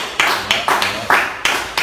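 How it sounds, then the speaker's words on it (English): A handful of sharp claps sound at an uneven, slightly halting rhythm for a singer after a song, close and distinct rather than a full crowd. "Clap for Charles."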